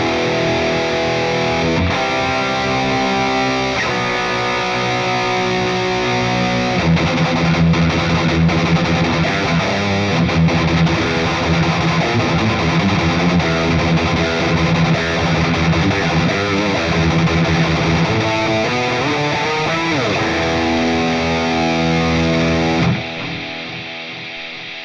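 Electric guitar played through a Bias FX 2 metal preset with heavy distortion and a long, lingering delay, sustained chords and riffs ringing continuously at close range before cutting to a decaying tail near the end.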